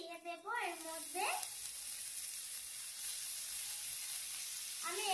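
Leafy greens hit a hot oiled pan for a Bengali dish, bursting into a loud, steady sizzle that carries on through stirring, with a brief voice at the start and again at the end.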